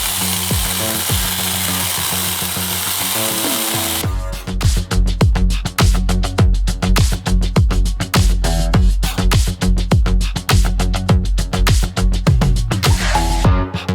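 A STARK BCS2115 cordless battery chainsaw cuts through wood, loud and close: a steady motor whine gives way to dense, rapid, rattling cutting that runs continuously to the end.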